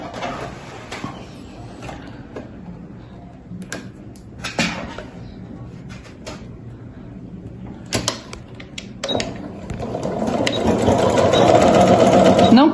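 Sewing machine stitching a reinforcing rectangle on a plastic mesh beach bag, starting and stopping in short rapid runs, then a longer, louder continuous stretch of stitching at the end. A voice talks quietly in between.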